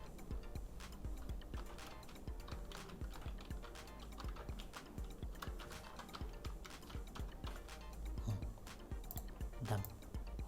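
Keys clatter on a computer keyboard while text is typed in Photoshop, a steady stream of quick soft clicks at close range, fairly quiet throughout.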